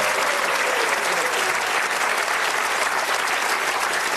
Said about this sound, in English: Nice applause there, Keith.